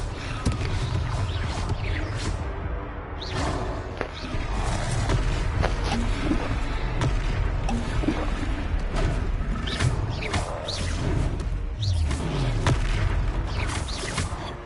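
A Confringo fire spell bursts in Hogwarts Legacy amid combat, with booming impacts, clattering effects and swelling game music running continuously throughout at moderate volume.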